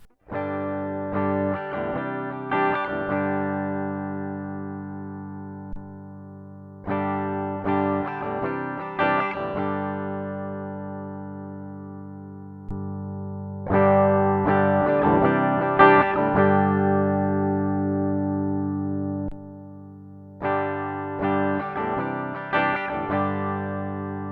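Electric guitar chords played through different volume pots, including a CTS Premium, in several separate passages, ringing out and fading, with the loudness noticeably changing from one passage to the next.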